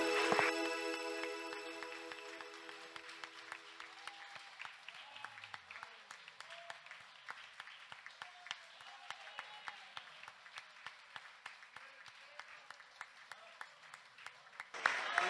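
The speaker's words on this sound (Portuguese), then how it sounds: "Vamos dar uma salva de palmas para o nosso Senhor Jesus." A congregation at a Sunday school service claps in praise, the applause fairly faint and continuing steadily throughout, while a sustained organ or keyboard chord rings at the start and soft voices sit beneath.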